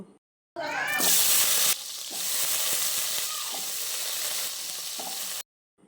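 Potatoes hit hot mustard oil in a wok with a sudden loud burst of sizzling that settles into a strong, continuous hiss before cutting off abruptly.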